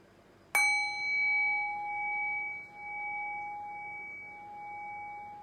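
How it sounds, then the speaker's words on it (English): A meditation bell is struck once with a sharp onset, then rings on alone in a long, steady, slowly fading tone with clear sustained overtones during a guided compassion meditation. "And I'll ring the sound of the bell again."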